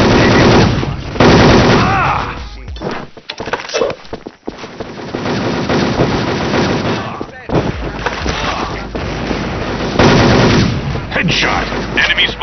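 Rapid automatic gunfire and single shots in a team-based shooter video game, loud and dense throughout, with a brief lull midway, layered over game effects and occasional announcer-style voice lines.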